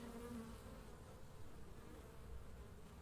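Bees buzz steadily and softly nearby, a continuous low drone with no talking.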